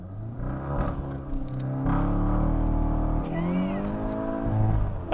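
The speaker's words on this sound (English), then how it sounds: "All right, we're gonna do another launch." A 2023 Volkswagen Golf GTI 40th Anniversary Edition launches hard from a stop, engine note climbing in pitch, dropping at an upshift, then rising again, heard close from inside the car.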